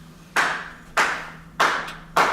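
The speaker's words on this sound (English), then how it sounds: "I couldn't help but applaud." Four sharp hand claps spaced about half a second apart, close and distinct, each with a brief ringing decay, alone with no voices.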